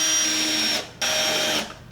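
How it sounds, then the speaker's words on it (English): Router spinning a bit to cut a small circle in wood on a homemade circle jig, two short high whirring bursts separated by a brief stop, loud and near, then winding down. "I spun the bit up on the router just long enough to cut just a little circle"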